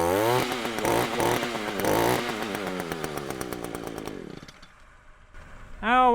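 A small two-stroke string trimmer fitted with a new head runs close by, its engine revving in a buzzing, rising and falling drone, then dropping to idle before a short rev returns.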